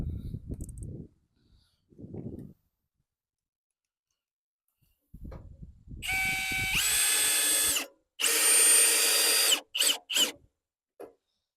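A power drill drives a half-inch lag screw into wood while a temporary power pole is being set, with several loud whirring runs separated by brief pauses, following a few low thumps at the start.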